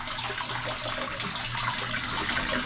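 Bathwater pours steadily from a tap for a bath, a continuous close rushing splash with no pauses.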